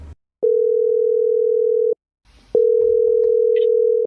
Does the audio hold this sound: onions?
no